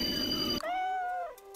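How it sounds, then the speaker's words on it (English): A cat meow plays as an email notification tone, one drawn-out, rising-then-falling call heard alone after a brief burst of noise. "imagine you get an email and the ringtone that appears is a cat sound"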